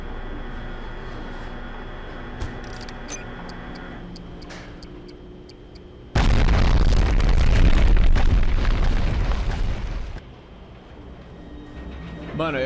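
A Medal of Honor: Underground game explosion erupts as a loud, sustained roaring blast lasting about four seconds, then drops back to quieter in-game ticking and ambience.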